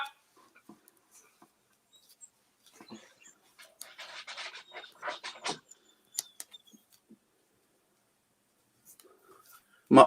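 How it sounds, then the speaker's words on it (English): A puppy crying at a door: faint, sparse whimpers and scratchy sniffing sounds, mostly quiet with a burst of activity midway and a louder yelp at the end. "My puppy's at the door crying for me."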